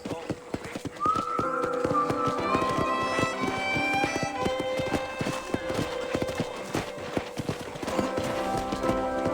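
Hooves clip-clop steadily in a ranch corral in the video game Red Dead Redemption, over a busy backdrop of overlapping tones, with a horse whinnying now and then.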